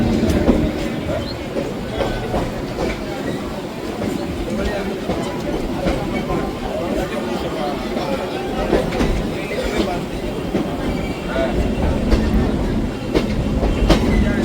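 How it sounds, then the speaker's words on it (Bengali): A Super local EMU train pulling out of Howrah station, with a continuous rolling rumble and clickety-clack of wheels over rail joints heard from on board, under a man's speech. "আর আমাদের সুপার লোকাল জাস্ট হাওড়া ছেড়ে এখন বেরোচ্ছে।"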